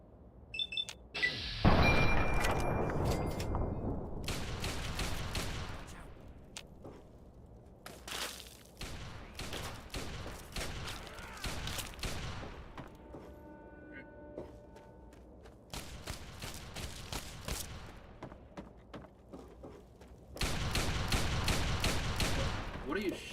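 Gunfire in the video game Fallout 3: bursts of sharp shots and rapid volleys, spaced through the stretch with quieter gaps between, fairly loud against a soft background.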